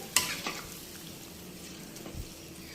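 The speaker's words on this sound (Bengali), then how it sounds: "আর এখন ডালটা আমরা দিয়ে দিয়েছি কষানো মাংসের মধ্যে, দিয়ে এবার খুব ভালো করে নেড়ে দিচ্ছি" Moong dal is stirred into sautéed chicken curry in a pot, a soft low simmering sizzle with a sharp utensil clink at the start and a few quieter scrapes and knocks later, fairly close and with no talking.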